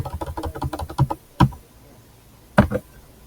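Keys clatter on a computer keyboard as code is typed, first in a quick run of strokes, then in a few isolated louder taps separated by pauses; close and clear with no talking.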